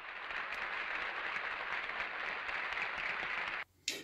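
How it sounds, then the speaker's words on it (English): A crowd applause sound effect, a dense continuous wash of clapping at moderate level that holds steady, then cuts off abruptly near the end with a brief different noise burst. "Another applause coming your way."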